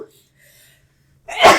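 A single loud, close sneeze bursts out after a brief quiet moment.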